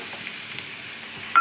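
Onions and green chilies frying in a pan give a soft, steady sizzle, faint and close, with a brief clink at the very end.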